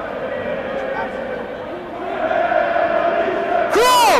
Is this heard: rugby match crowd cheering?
yes